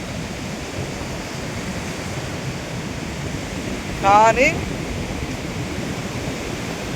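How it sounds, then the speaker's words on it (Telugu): Steady sea wind and distant surf by the ocean form a continuous broadband wash, with a short burst of talk and a brief tonal sound partway through. "అనంతమైన సముద్రం ఉంది వెనకమాల. ఈ సముద్రం గాలి చల్లగా వస్తుందన్నమాట అక్కడికి."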